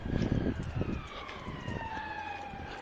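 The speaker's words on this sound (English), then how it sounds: "Can hear more sirens," Police sirens passing along a city street, a wailing tone sliding slowly downward as it moves away, moderately distant beneath rumbling traffic and wind.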